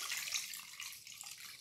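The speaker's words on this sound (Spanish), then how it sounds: "Y ahora lo cubro de agua." Water poured into a pot over small apricots for homemade jam, a quiet, steady splashing trickle lasting about a second and a half, alone.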